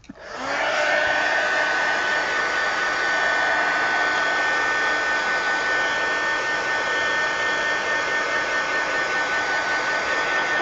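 A handheld dryer switches on and blows in a steady, loud whooshing roar for about ten seconds, drying colored ink on an adult coloring page, with no talk.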